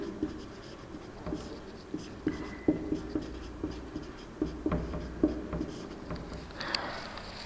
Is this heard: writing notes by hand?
yes